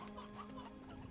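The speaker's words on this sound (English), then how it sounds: "Ooh, too many chickens. Just want the rooster." Chickens cluck in a pen in the Slime Rancher 2 video game, a soft, continuous mix of overlapping clucks under steady game ambience, faint and short.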